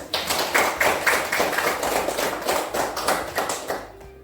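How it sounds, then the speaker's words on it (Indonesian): Classroom applause from a group of pupils: steady, rhythmic hand claps in even unison beats, filling the room for about four seconds before stopping abruptly. "Tepuk tangan."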